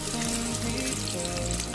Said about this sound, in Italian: Intanto il soffritto va